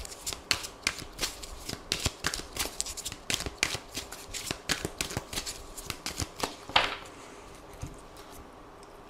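A deck of Aphrodite oracle cards is shuffled by hand at close range, producing a rapid series of crisp riffling slaps and flicks in an otherwise quiet room.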